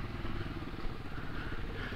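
A mini motorcycle engine runs steadily at a constant, fairly loud level with a low, rough droning hum, outdoors near a camping area, with no pauses across the short stretch.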